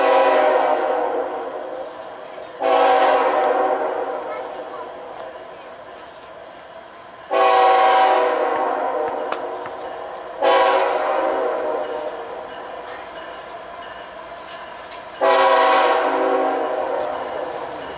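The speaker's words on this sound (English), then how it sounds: "Here comes another train." A train horn blows in long repeated blasts, four loud sustained honks separated by short pauses, close and dominating the scene.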